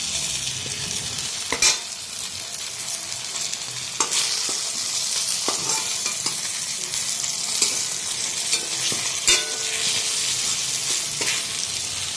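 Eggplant slices fry in plenty of oil in a kadai wok, a close, continuous sizzle with occasional sharp stirring scrapes and clicks and no voices.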